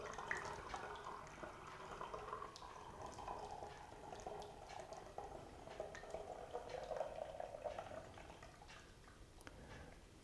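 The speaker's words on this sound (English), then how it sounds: "let's add the chokeberry juice first" Chokeberry juice pours steadily into a fruit-wine batch, a continuous liquid gurgle and splash lasting about ten seconds, close and moderately quiet with no talk over it.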